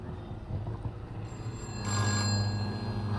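A telephone rings with an incoming call at a film pre-release event, a faint, steady electronic ring that swells partway through over a soft room hum.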